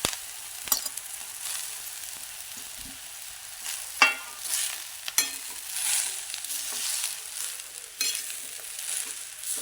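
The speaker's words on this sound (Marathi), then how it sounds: "मिरची छान अशी परतली एक मिनिटासाठी अशी परतून घ्यायची आपण त्याच्यामध्येच ही भाजी लगेच टाकून घ्यायची" Green chili and chickpea greens sauté in oil in a pan for a village-style harbhara dish, giving a steady close sizzle broken by sharp scraping stirs every second or so.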